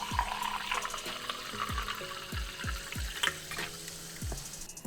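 Lukewarm water runs into a drinking glass, a steady trickling pour with a series of bubbling, glugging drops that repeat at a fairly even rhythm, close up and without talk.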